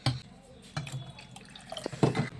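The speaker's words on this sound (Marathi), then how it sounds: "हे बघा आता याच्यात पाणी टाकलंय मी" Water poured into a pot of dal for Sindhi-style dal pakwan, heard as a few short splashes and drips, close by, with a stronger pour near the end.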